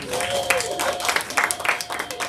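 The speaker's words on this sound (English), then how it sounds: "Applause." Audience applause at a live comedy game show, a burst of clapping from a small crowd, fairly close and steady, with a sustained tone underneath.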